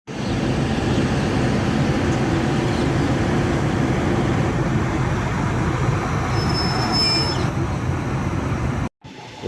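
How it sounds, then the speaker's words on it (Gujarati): A freight train rolls past at a railway junction during an engine change stop, a loud continuous low rumble and rattle of wagons close by with a faint high wheel squeal, cutting off near the end. "સામેની તરફ જઈ રહી છે માલગાડી."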